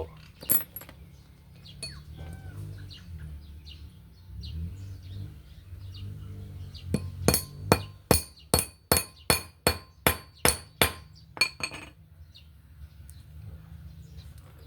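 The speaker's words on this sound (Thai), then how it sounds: "ใช้คอร์ตตอก ตอกแกนยึด ข้อต่อ โซ่" Sharp metallic hammer strikes on a punch driving a motorcycle chain link pin ring out, first scattered, then a fast run of about a dozen evenly spaced blows, close and loud, before tapering off.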